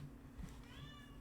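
A house cat gives a single faint meow, quiet and close, alone without talk.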